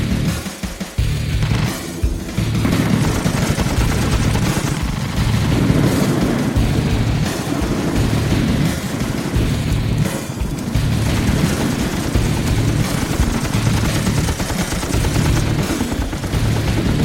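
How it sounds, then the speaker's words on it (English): Sustained, loud gunfire fills an action-film firefight scene, with rapid bursts and booming shots running continuously and densely layered throughout, with no talk heard. "Bravo, friendly fire, taking friendly fire."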